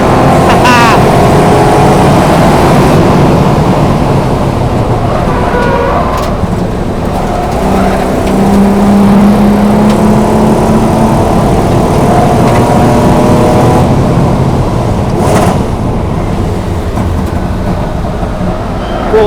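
A V12 engine in a Jaguar XJS roars up and down through the revs at close range on a track, loud and sustained, with rising and falling tones as gears change and a voice briefly.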